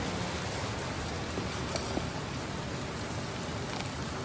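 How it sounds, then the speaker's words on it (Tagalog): Dense, steady rain pours down with an even hiss, drops pattering on surfaces throughout, no voices. "Lakas ng ulan."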